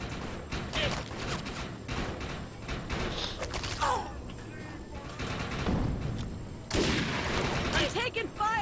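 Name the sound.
gunfire from the video game Defiance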